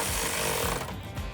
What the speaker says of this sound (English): we can go back and tighten down the bolts that are attached from the step to the bracket